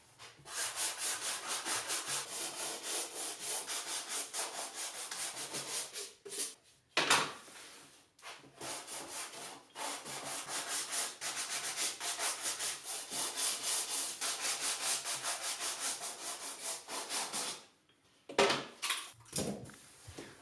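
Rough, rhythmic scratching of 80 grit sandpaper rubbed along plywood edges, close and continuous in long strokes, broken by a few short pauses and knocks near the end.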